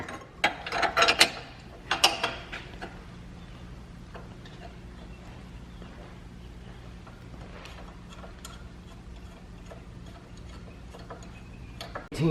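A socket and wrench remove sway bar links on a Trackhawk suspension, giving a burst of loud metallic clicks and clanks early on, then faint sparse ticks over a steady low hum in a garage.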